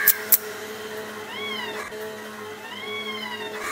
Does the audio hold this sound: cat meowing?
yes